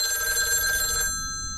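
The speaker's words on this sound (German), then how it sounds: "Telefon." A telephone bell rings loudly for about a second, a bright trilling ring that then cuts off into quiet.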